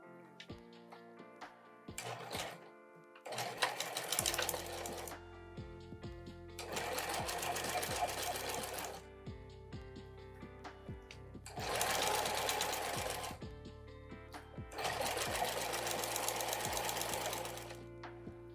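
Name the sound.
sewing machine sewing tote bag lining shut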